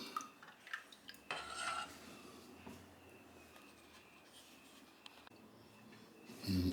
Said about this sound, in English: we're going to stir a bit and let it come to a boil